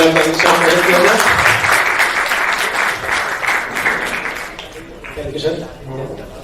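Loud, dense applause fills the hall at a JEE Advanced toppers' felicitation ceremony in Varanasi, then thins and fades toward the end as a voice begins speaking over it.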